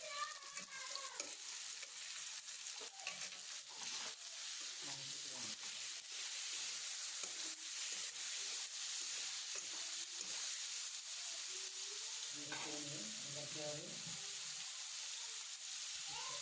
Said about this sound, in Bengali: লবণটা দিয়ে একটু ভালো করে নেড়ে নেব।